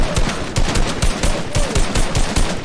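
Rapid bursts of automatic gunfire in a Fortnite match, loud and close, firing in quick repeated volleys with short gaps across the whole stretch.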